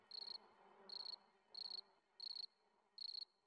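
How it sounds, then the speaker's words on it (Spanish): Cricket chirping in five evenly spaced bursts of rapid trills, clear and fairly close against a quiet background. "el grillo comenzó a cantar nuevamente sus melodías de amor"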